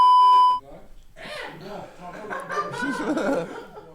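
A loud, steady censor beep tone lasts about half a second at the start, then gives way to lively French conversation mixed with chuckles and laughter.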